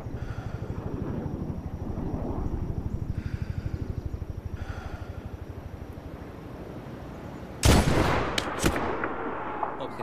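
Medal of Honor video game combat: a steady rhythmic mechanical thumping throughout, broken late by a couple of sharp, loud gunshot cracks close together.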